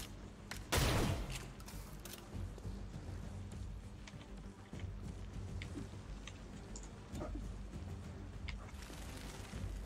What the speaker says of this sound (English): Throwing a grenade just to make their life a living hell.